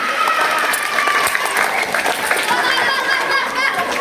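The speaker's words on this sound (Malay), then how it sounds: "Tepuk tangan." Audience applause fills a religious lecture marking Isra' Mi'raj, a dense, steady crowd clapping lasting the full few seconds with faint chatter mixed in.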